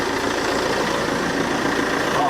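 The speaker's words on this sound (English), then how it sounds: "I'll turn off the engine." A car engine idles steadily at close range, a continuous broadband rumble with a faint knocking texture, just before being switched off after an air-conditioning gas refill.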